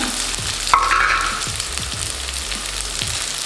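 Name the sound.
chopped onions frying with quail in pan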